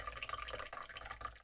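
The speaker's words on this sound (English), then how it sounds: "I'm just pouring my coffee" Coffee pours into a cup with a soft, uneven trickle and splash that stays quiet and close for a moment.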